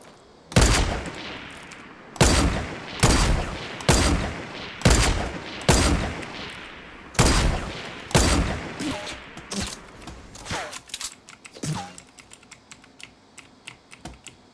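Fortnite gunfire rings out as a run of loud, sharp shots spaced about a second apart, then a scatter of fainter, more distant pops trailing off, with no voices.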